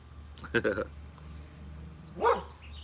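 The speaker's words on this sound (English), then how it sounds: "Stop your barking, be quiet." Dog barks nearby in two short bursts, a quick double woof followed after a pause by another, over a faint low hum.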